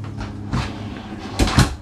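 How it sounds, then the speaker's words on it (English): A soft-closing drawer in the bathroom of a Jayco Pinnacle 38FLGS fifth-wheel RV slides shut with a muffled glide and two soft thuds at the end, near and moderately loud. "Soft closing drawers."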